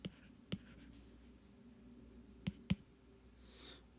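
Chalk or marker taps and strokes on a board during a physics lecture on circular motion, heard as a few sharp, faint clicks spaced unevenly over a quiet room with no speech.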